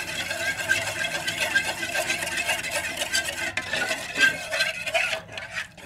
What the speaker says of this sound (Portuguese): Aí eu coloco até dissolver tudo.